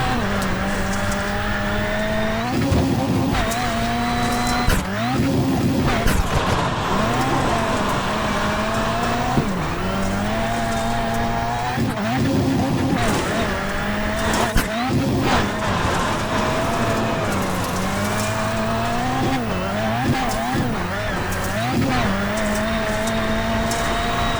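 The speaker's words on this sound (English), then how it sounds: "let's ride on board car number 1 and take a lap here in the feature" Onboard a rallycross Lites car racing a feature lap at Wild Horse Pass, the engine revs up and down constantly through gear changes and corners, loud and close, with occasional bumps and a commentator's voice faintly underneath.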